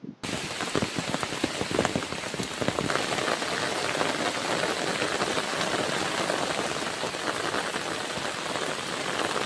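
Heavy rain pours steadily onto a farm field, a dense, loud, continuous hiss of drops with no voices.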